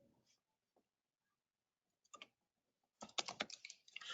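Someone types a name on a computer keyboard in a quiet room, with a few isolated clicks followed by a short, rapid burst of keystrokes near the end, close and soft.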